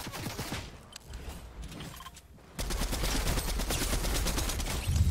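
Rapid gunfire crackles through a Fortnite-style battle royale match, scattered shots at first, then a dense, loud, sustained burst of repeated fire from about midway on.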